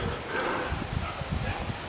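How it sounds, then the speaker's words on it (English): Several dogs at a nearby kennel bark and yip repeatedly in quick, irregular bursts, moderately distant, over a steady background hiss near a campsite at Phillips Farm, Mildenhall. "You can probably hear the dogs barking."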